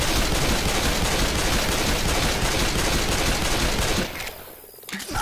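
Sustained, loud gunfire from several weapons in the Left 4 Dead 2 video game, a dense continuous barrage that cuts off abruptly near the end and leaves a brief quieter stretch.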